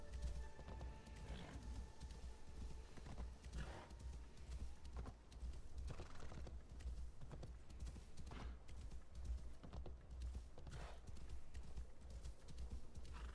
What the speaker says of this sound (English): at least we're unlocking more on the map as the horse rides around